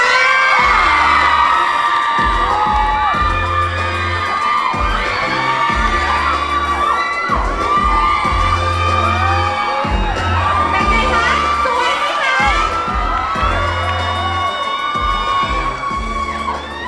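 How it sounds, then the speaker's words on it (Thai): A large crowd at a Garnier event at Central Pinklao screams and cheers loudly and continuously, high-pitched shrieks layered over a thumping beat. "ขอเสียงกรี๊ดดังๆเลย"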